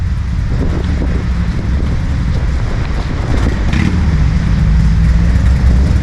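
Motorcycles at the Lone Star Motorcycle Rally in Galveston, Texas, a loud steady engine rumble with passing bikes and crowd ambience, no clear talk.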